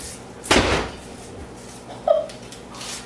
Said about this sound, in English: You can shut the door